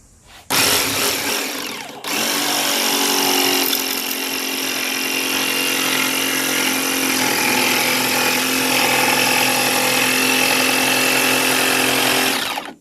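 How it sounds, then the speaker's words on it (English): A jigsaw starts with a short burst, pauses, then runs continuously cutting through a countertop, a loud, close, steady buzzing whine. "it's not wise to turn the jigsaw while you're in there"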